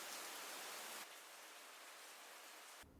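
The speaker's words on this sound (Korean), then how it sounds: "늦은 새벽 정말 비가 내렸습니다." Steady rain falls at night in a traditional hanok courtyard, a continuous even hiss that holds at a soft, uniform level for the whole stretch with no voices.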